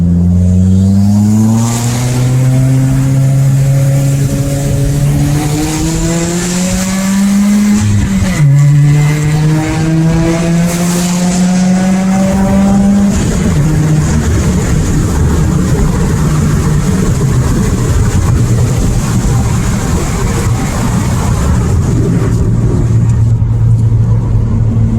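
A tuned 2017 Subaru WRX accelerates hard up an on-ramp. The engine climbs loud and close through rising revs, drops briefly at a shift, then pulls again before settling into a steady roar.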